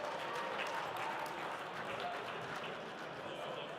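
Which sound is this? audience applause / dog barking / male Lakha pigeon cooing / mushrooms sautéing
audience applause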